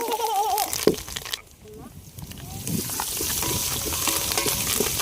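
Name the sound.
frying onions, green chillies and curry leaves for chicken pulao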